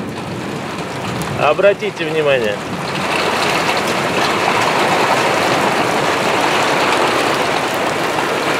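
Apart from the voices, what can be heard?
heavy rain shower with large drops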